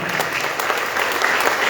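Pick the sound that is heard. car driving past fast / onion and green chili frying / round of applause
round of applause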